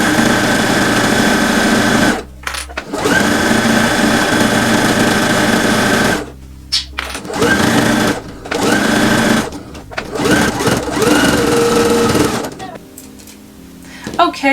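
A sewing machine stitches through several layers of quilted material for a zippered bag, loud rapid whirring in bursts of a few seconds separated by short pauses, with a voice talking around the stitching.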